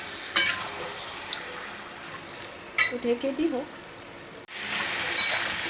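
Chicken frying and being stirred in a kadai, with a steady low sizzle, a few scraping stirs in the middle, and a louder hiss near the end; a voice speaks briefly.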